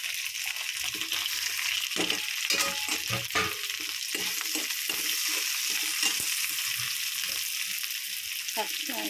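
Garlic, onions and green chillies fry in a pan with a steady, bright sizzle, broken by repeated scrapes and knocks of stirring throughout; no voices.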